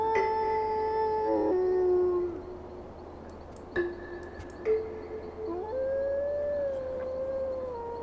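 Creatures in the puzzle game Tengami let out long, wavering howls, a few overlapping calls that rise and fall, with soft clicks in between and no talking.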